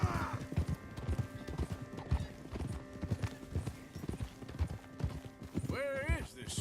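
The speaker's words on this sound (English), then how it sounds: "What a horse!" Horse hooves clip-clop in a steady walking rhythm in the video game Red Dead Redemption 2, with a clear neigh near the end and characters talking over the hoofbeats.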